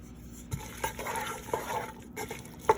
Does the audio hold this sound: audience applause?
no